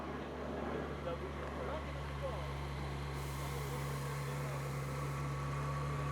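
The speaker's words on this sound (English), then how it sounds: "Sounds great while it's running." A 2003 Ferrari 360 Spider with its top down idles steadily, giving a continuous low engine drone with a faint tonal hum that holds even and unbroken throughout.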